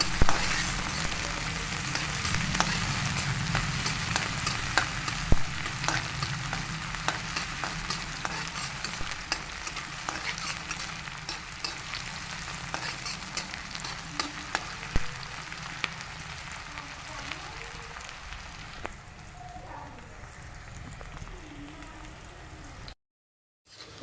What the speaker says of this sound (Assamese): এয়া পিঁয়াজটো ভাজি আছোঁ।